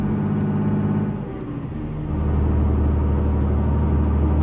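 A Kenworth T300 truck with a Cat C7 engine, pulling a side dump trailer in a video game, drones low and loud, dips briefly as gears shift, then pulls hard again under load, steady and close.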